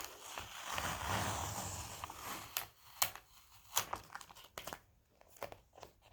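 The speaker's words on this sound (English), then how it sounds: "Take the tape off. And the other part." Tape is peeled slowly off a surface with close, soft crinkling and rasping, then a series of short tearing snaps and small handling noises.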